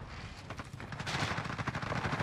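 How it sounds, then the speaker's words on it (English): Rapid gunfire in Call of Duty Warzone, a dense rattle of automatic shots that builds over a couple of seconds, fairly close and continuous with no talking. "They're shooting at me."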